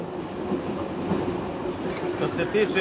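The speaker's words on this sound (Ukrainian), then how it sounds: "сербо-боснійський потяг помітно збавляє швидкість" A Serbian-Bosnian passenger train running between Sarajevo and Belgrade rumbles steadily as it slows, a close, continuous rail roar with faint wheel noise and no voices.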